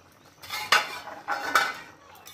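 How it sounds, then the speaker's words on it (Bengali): A metal lid comes off a pot of Bengali fish curry with potato and pointed gourd, making two close, light metallic clinks and scrapes against the rim, with no talk. "ঝোলটা এবার খুলে দেখবো।"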